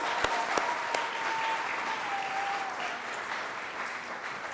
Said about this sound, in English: So one big round of applause for all of our puppy dogs.